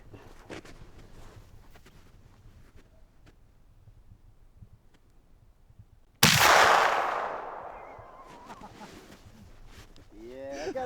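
A Soviet gun is fired at walls while the shooter lies in snow: after several quiet seconds of low ambience a single loud, sharp report bursts out and decays into a lingering echo, followed by a voice.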